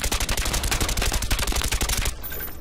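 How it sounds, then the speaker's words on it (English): Rapid automatic gunfire rattles in Call of Duty: Black Ops on the Havana map, a loud dense string of shots in quick rhythm that cuts off abruptly near the end. "I can see you shooting it."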